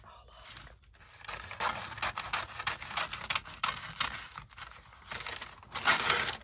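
Paper for a junk journal being handled, rubbed and shuffled close by, with continuous crinkly scraping and rustling bursts that swell louder toward the end.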